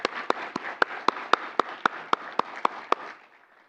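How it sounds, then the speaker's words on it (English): Applause at a university honors colloquium comes across as about a dozen crisp, evenly spaced claps, close and distinct, before stopping and leaving a brief quiet tail. "Let's give them a round of applause."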